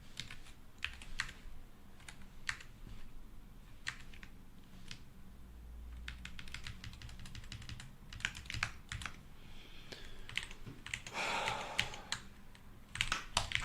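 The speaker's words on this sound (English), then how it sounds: "Is this keyboard not as good as it sounds?" Computer keyboard typed on in bursts of rapid clicking keystrokes with short pauses between runs, close and clear with no voices.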